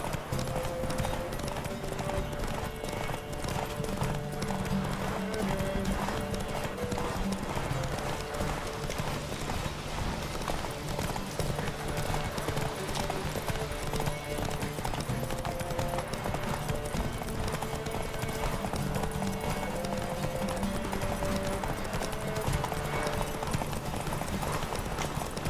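A horse gallops in The Witcher 3, its steady clip-clop hoofbeats running without a break and sitting over a continuous layer of game music and ambience.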